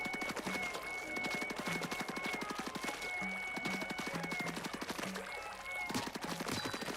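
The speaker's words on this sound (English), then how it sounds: "I can shoot the tree to make it shake." Rapid, evenly spaced ink shots fired at a tree in Splatoon Raiders, a steady rattling stream running throughout under game music, with no talking.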